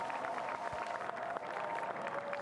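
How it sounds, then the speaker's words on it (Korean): Applause from a line of staff gathered at the main entrance of the National Assembly during a presidential inauguration, a steady dense patter of many hands blended with crowd murmur, sustained and moderately distant. "이제 직원들이 도열해서 박수를 치고 있는 모습까지 보이고 있고요"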